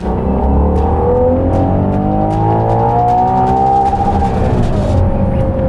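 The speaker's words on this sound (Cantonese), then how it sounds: "成個車廂個引擎嘅死氣聲係好大嘅" A loud, steady V12 engine drone fills the cabin of a Ferrari Purosangue around 3000 rpm, the exhaust note rising and holding in pitch as the engine revs smoothly.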